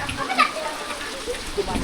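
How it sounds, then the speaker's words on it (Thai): Heavy rain pours down in a Thai village, a dense steady hiss with scattered drops spattering on surfaces close by, continuous and fairly loud throughout the short stretch. "ฝนมันตกแรงอีหลีนี่"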